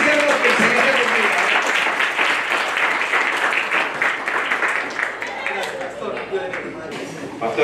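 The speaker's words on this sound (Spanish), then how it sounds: "Un buen aplauso para el siervo que el Señor le bendiga" A church congregation applauds to welcome a visiting pastor from El Salvador, with many hands clapping strongly at first and then slowly tapering, while voices call out over the clapping.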